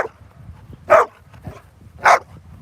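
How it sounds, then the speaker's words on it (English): Excited dog barking in two loud, sharp bursts about a second apart, close by, with low background rumble between them, during Hurricane Ian preparations on the water in Charleston. "Sorry for the barking. He is very excited."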